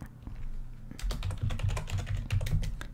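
Rapid clicking of computer keyboard keys while coding, a close, dense patter of keystrokes starting after a short quiet moment and continuing steadily.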